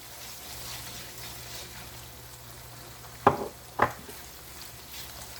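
Ginger garlic paste dropped into a pan for potato masala pulao, a soft low sizzle with two sharp splattering bursts as the paste goes in, then a quiet steady fry.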